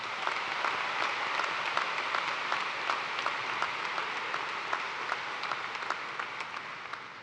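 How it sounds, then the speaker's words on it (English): A large crowd at a spring 2024 university commencement ceremony applauds the graduating students, a steady, somewhat distant wash of clapping with no talk. "Please join me in applause to acknowledge the scholastic achievement of all of these students."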